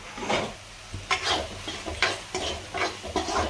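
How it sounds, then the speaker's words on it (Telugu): Chana masala being stirred and mixed in a pan with chilli powder, salt and coriander spices, giving repeated scraping strokes over a soft sizzle, close and moderately loud, with no talking. "బాగా ఇలా కలపెట్టుకోండి బాగా ఇది ఉడకపెట్టుకున్నాం కదా"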